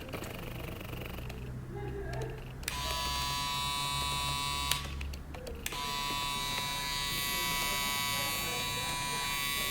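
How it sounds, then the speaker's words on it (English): An Andis Recon Series hair trimmer running close by, a steady high electric buzz that switches on and off a couple of times, with soft speech faintly underneath. "Andis raised the bar with this trimmer right here"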